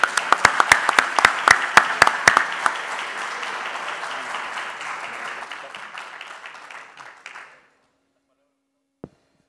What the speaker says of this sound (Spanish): Un fuerte aplauso nuevamente, Gustavo.